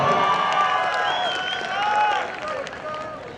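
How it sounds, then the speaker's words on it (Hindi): A crowd at a college annual function applauds and cheers for a guest, a dense wash of clapping mixed with shouts and voices that holds strong, then eases off near the end. "भूम सिंह जी राठौर सर के लिए एक बार जोरदार तालियां"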